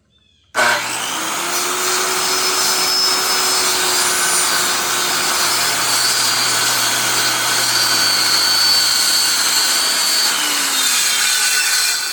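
A power saw whines steadily and loudly through a large board for a driveway gate, cutting continuously at close range for about eleven seconds with no talking.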